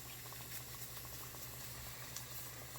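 Dumplings fry in oil, sizzling and bubbling quietly with a constant crackling patter, faint spits popping here and there, no talking.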